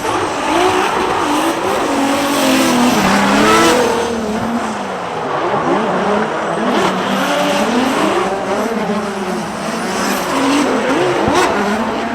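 A BMW E36 drift car on a lead run at a Formula Drift event in Seattle. A loud, continuous engine roar rises and falls as the revs change, with tire squeal and skidding hiss throughout, close and intense.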